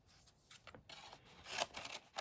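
Scissors cut off a paper stencil for a painted geranium craft with several close, crisp snips and rustling paper scrapes in an uneven rhythm. The cuts grow louder toward the end and no one speaks.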